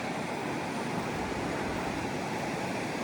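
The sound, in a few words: sea waves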